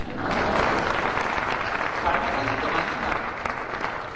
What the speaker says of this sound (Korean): 우리 김영삼 전 대통령에서 박수 한번 쳐주십시오.